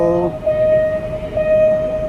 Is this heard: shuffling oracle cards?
no